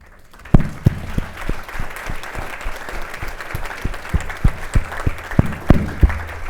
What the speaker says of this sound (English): we keep the applause going